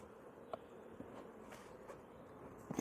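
Honey bees hum in a large hive, a faint steady drone with a few soft knocks and bumps close by.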